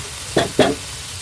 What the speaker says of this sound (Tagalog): Kahit anong gulay, isaksak mo dyan sa fried rice, ihalo mo lang.